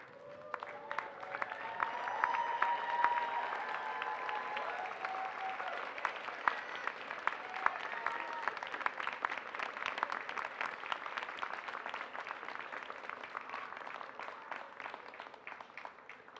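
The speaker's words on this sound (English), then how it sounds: "Please stand up, turn around, and give them a round of applause." A large commencement crowd applauds families and supporters in a long, steady wash of clapping that swells early, then holds dense and even for over fifteen seconds with no voices over it.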